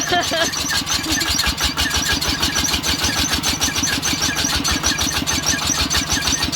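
A truck engine pulling a trailer, started with a key, runs in a fast, even mechanical chugging and knocking throughout, loud and close, with voices talking over it.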